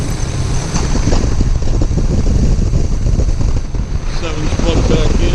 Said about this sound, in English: And you hear a drop in RPM.